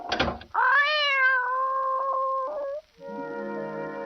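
A kitten meows loudly and close in a long, drawn-out, wavering cry, followed by a shorter, lower meow, with no voices.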